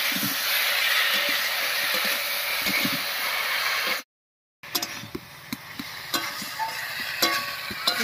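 A ground spice paste sizzles in a pan with vegetable stalks and potatoes: a steady, bright frying hiss, a brief break, then quieter sizzling with repeated soft scrapes and taps of stirring.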